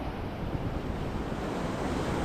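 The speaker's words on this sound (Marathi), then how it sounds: "समुद्र शांत आहे आज लो टाईड आहे" Sea waves wash onto the shore at low tide in steady, broadband surf, loud and close, with wind buffeting the microphone throughout and no voices.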